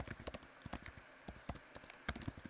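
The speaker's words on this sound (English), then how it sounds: "I don't type this awful when I'm actually typing, but when I'm doing it on stream" Quick, uneven typing on a computer keyboard, close and crisp clicks in irregular bursts with short pauses, alone and fairly quiet.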